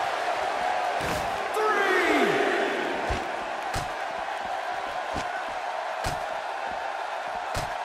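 Sold-out arena crowd in the wrestling video game WWE 2K16, a continuous roar of cheering with a swell near the start and sharp impact thuds throughout, while commentators talk over it.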